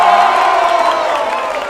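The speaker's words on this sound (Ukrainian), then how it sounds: "Чому такі овації?" Football supporters at Mestalla stadium in Valencia, Spain, roar in a sustained ovation during a team training session, a dense steady crowd wash of cheering and shouting that fades slightly toward the end.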